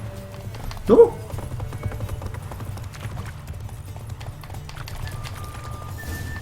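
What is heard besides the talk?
horse galloping in the video game The Witcher 3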